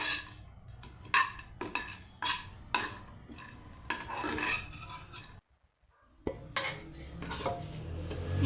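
Dry fruits being warmed in a pan for a suji besan halwa and stirred with a metal spoon, giving repeated scraping and clinking strokes with soft sizzling, a brief pause, then more stirring.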